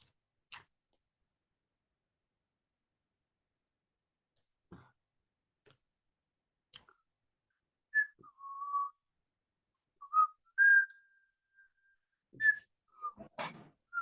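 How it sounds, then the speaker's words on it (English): A person whistles in a quiet art classroom: short scattered tones and brief warbling phrases, close and clear, separated by silence and a few soft clicks. "How can you literally do that? Do what? Whistle?"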